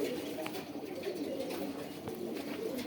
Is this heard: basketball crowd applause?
no